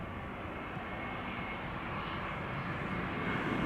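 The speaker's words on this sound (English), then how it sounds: "here is a Dreamliner from TUI, flying base" A TUI Boeing Dreamliner flies the base leg near Amsterdam Schiphol, heard as a faint, steady, distant jet rumble.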